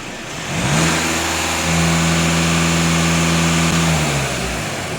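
A warmed-up VW Passat 2.0 TDI diesel engine runs steadily at close range with a low, even drone and a slight rise in pitch early on.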